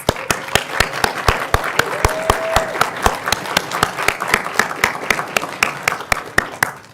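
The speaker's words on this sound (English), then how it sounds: "let's give them a big round of applause" An audience applauds event sponsors with a round of clapping, sharp individual claps rising over a softer wash of applause, close and rhythmic, with a brief voice murmur in the middle.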